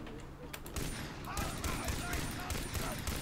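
Rapid bursts of gunfire from the video game Far Cry 3, a dense fusillade of overlapping shots throughout, with a voice talking over the shooting.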